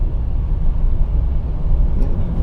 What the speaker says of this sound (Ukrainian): От зараз поїзд їде, ми його чуємо.